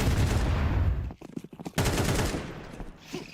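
Rapid gunfire crackles in a professional Counter-Strike match at PGL Bucharest, a dense burst of shots up close, then a brief lull before more firing resumes, with a commentator talking over it.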